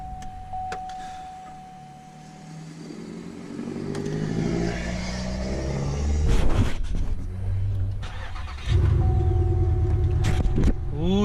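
A 5.3L V8 swapped into a front-wheel-drive car cranks, catches and settles into a rough, rumbling idle, with clatter and uneven revs building louder toward the end.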